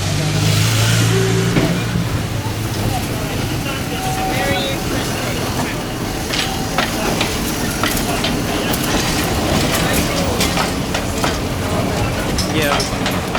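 An old train engine about 100 years old rumbles and clatters at a rail yard on a Spain, Portugal and Morocco cruise trip, with a loud steady mechanical roar and rhythmic clacking, and people talking over it.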